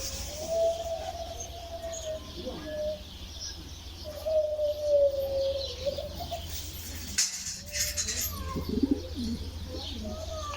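Pigeons coo in soft, drawn-out calls over a low steady hum, with a few faint chirps mixed in and background voices at moments.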